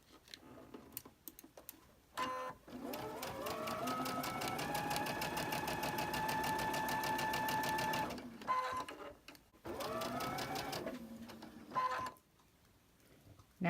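Sewing machine stitching a scant quarter-inch seam in cotton fabric, a close, fast, even whir that runs steadily for several seconds, stops, then resumes in a shorter burst.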